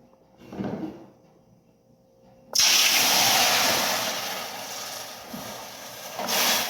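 A home oven door opens with a clunk, then water hits a hot pan inside and erupts into a loud, sustained steam hiss that slowly fades, for baking artisan French bread; a soft knock comes first.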